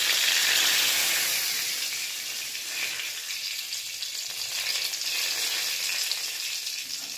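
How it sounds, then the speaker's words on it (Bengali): Five-spice tempering and bay leaf sizzle in hot oil in a kadai, a bright continuous crackling hiss that starts loudest and settles into a steady frying sizzle. "কড়াইতে তেল গরম করলাম, গরম করে এবার 5 ফোড়ন, সম্বরা দিলাম"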